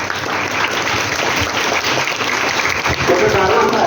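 A school crowd applauding its teachers at a literary fair event, dense, steady clapping from many hands filling the hall for the whole stretch, with a few voices mixed in.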